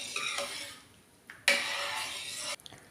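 Semiya payasam milk mixture, thinned with water, being stirred in a pot: a few close, brief scraping and clinking bursts of a spoon against the pot, separated by quiet gaps.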